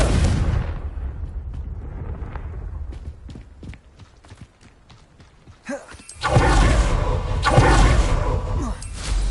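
Confringo spell explosions in Hogwarts Legacy burst loudly at the start and again midway with a heavy rumbling roar, separated by a run of sharp crackling pops and whooshes.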